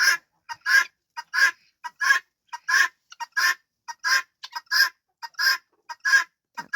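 Guinea fowl squawk in repeated loud bursts, a near, rhythmic chorus of harsh calls spaced about half a second apart with no talking.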